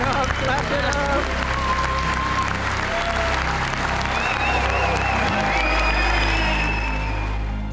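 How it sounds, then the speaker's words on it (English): A large audience breaks into loud, sustained applause mixed with cheering and shouts, a dense wash of clapping that holds steady throughout. "Clap it up, clap it up."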